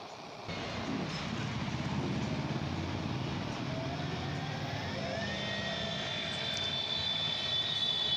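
48 volt 1200 watt CY Gold electric motor on a freshly rewound winding, starting up after a brief quiet moment, then a steady whirring hum whose whine rises in pitch as it picks up speed.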